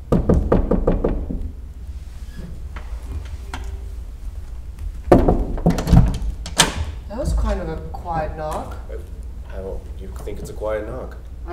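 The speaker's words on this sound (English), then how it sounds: "I do think it's a quiet knock" A few soft knocks rap on a door during a Meisner acting exercise, a short cluster of quiet taps at the start, followed by people talking close by.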